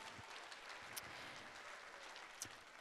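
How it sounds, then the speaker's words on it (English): Faint applause from the audience at an elementary and middle school choir festival, thanking the choir teachers, with scattered claps and a couple of sharper accents, quiet and distant throughout. "One more round of applause for Ms."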